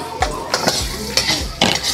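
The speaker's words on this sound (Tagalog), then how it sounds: "At pagkainit ng mantika, ilalagay na natin ang sibuyas at bawang." Onion and garlic sizzling in hot oil in a pan at a school cooking contest, with repeated close scraping stirs and utensil clinks over the frying hiss.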